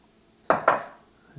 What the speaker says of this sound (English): And you add your sliced bananas.